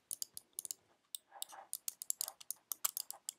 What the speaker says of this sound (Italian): mi piace tantissimo il, il click, sentite?